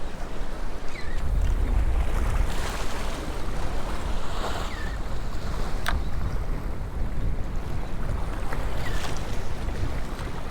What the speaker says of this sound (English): Big old loud diesel engine